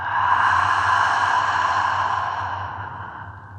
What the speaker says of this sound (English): Long breath out through the mouth.